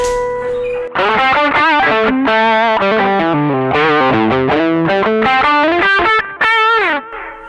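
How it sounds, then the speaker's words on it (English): An overdriven electric guitar plays a melodic line through a multi delay with its mix turned way down, notes trailing into soft delay repeats, loud and upfront with no talking. "So you can hear the delay is still there, but the mix has gone way down."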